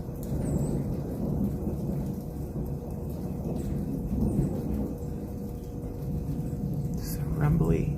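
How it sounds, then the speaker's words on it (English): Low thunder rumbles through a rainy storm, a steady deep roll with mild swells. It stays under a person talking throughout. "and there's the thunder."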